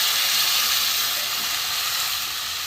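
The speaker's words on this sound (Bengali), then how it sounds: "জল দিয়ে দেবো।" Water poured onto a well-fried spice paste of ginger, cumin, coriander powder and garam masala in a pan for a thin fish curry with papaya and potato: a loud, continuous hissing sizzle close by, no speech.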